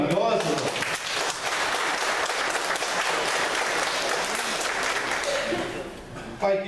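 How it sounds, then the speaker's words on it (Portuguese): A church audience at a couples' ministry anniversary breaks into sustained, loud applause that holds steady for several seconds before tapering off near the end. "Queria pedir uma salva de palmas para essa equipe maravilhosa."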